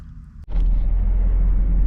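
A camper van being bump started rolling down a hill: a brief near-silent drop, then the engine catches and settles into a loud, close, steady low rumble.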